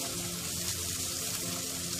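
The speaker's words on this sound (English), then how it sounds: "Now the water is boiling." A steady, close bubbling and hissing of water at a rolling boil in a pot for broccoli, continuous and fairly quiet, with no talking.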